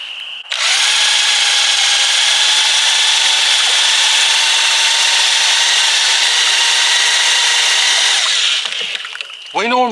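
A power drill fitted with a paddle mixer stirs bee feeding syrup in a container, a loud steady whine lasting about eight seconds before winding down, with a brief voice after it stops.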